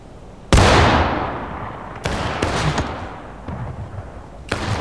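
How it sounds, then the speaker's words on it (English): Gunfire in the Civil War-era multiplayer game War of Rights, one loud close musket shot with a long echoing tail followed by several more distant shots in a scattered sequence. "Wait, those shots come from behind?"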